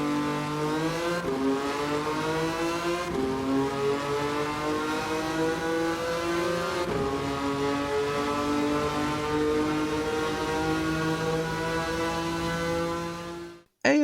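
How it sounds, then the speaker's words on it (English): A racing engine, the Lancia Stratos V6 Dino engine in Gran Turismo 7, revs and climbs through several gears, each shift dropping the pitch before it winds up again, loud and steady until it cuts off. "we could go for the V6 Dino engine, courtesy of the Lancia Stratos, just for this noise"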